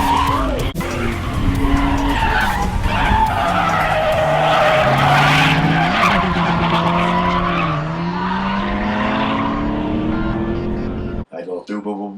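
A race car's engine wails through gear changes as its tires skid and squeal loudly, then the sound cuts off abruptly near the end.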